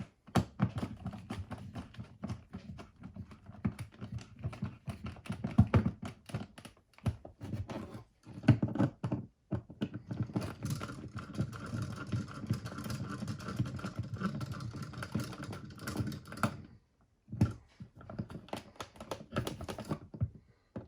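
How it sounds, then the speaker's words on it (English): Screws being tightened on an electrical receptacle, a run of small clicking, scraping and ratcheting sounds in irregular bursts with short pauses, close up and fairly quiet, with no talking. "we tighten these screws down here"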